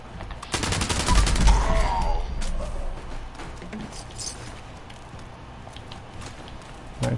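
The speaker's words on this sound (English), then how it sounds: "Nine shots there." Rapid bursts of gunfire from a weapon in the video game Fallout 76, a dense volley in the first few seconds that thins into sporadic shots, loud and close.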